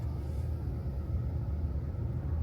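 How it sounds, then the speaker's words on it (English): A car's engine rumbles steadily at low pitch on a quiet open stretch in the Pocono Mountains, a constant near drone with no voices over it. "I almost feel like I'm making too much noise with the car"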